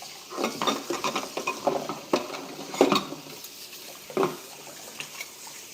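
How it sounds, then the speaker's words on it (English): Dishes and spoons being cleaned, with irregular clinks and scrapes of cutlery against dishware close by, alongside running water, continuous with no talking. "Clean some dishes here, some spoons."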